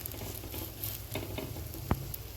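Besan poli, a gram flour flatbread, cooks in oil on a hot pan with a steady low sizzle and patter, broken by a few faint scrapes and one sharp tap near the end.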